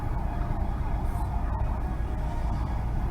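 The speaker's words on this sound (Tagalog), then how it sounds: "Yung ambulance ayaw papadaanin." An ambulance siren wails through busy traffic near a school, steady and fairly distant beneath the constant rumble of vehicles, with faint voices inside a car.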